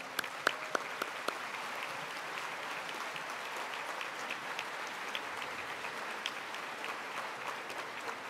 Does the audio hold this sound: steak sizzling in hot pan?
no